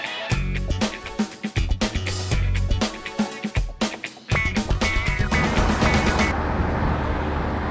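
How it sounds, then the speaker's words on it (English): A BMW E85 Z4 roadster with broken struts drives along, its engine loud and close with pulsing, shifting tones and a steady rumble of road noise. "I am driving the little Z4 today"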